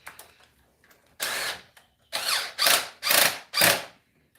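Impact driver snugging engine head bolts during an engine assembly, a few faint taps followed by four or five short, loud whirring bursts with brief pauses between them.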